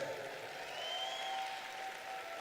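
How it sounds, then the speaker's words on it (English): Audience applause at a high school graduation ceremony, a steady, somewhat distant wash of clapping from a large crowd, with a faint tonal whistle or cheer riding over it. "Somebody give a round of applause for that."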